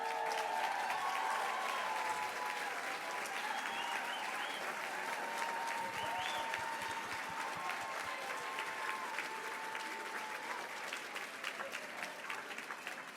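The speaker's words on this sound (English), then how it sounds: "so we can all give them a round of applause" A packed gala audience applauds the board of directors, a steady, dense wash of clapping that holds evenly throughout with no voices over it.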